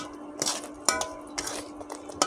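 Mustard paste being stirred and sautéed in a pan, a quiet background hum broken by a handful of distinct scraping clinks of a utensil against metal at irregular intervals, close and moderately loud, with no voices.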